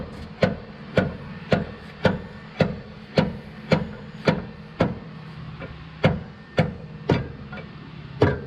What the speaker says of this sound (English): A hammer. Hammer? Yes. Okay. A big hammer, actually.